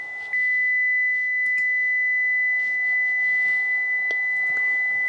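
A steady 2 kHz test tone plays from a phone held beside a microphone, loud and continuous with no talk, a few faint clicks and background noise beneath it.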